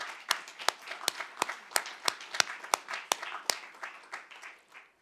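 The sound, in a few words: audience applause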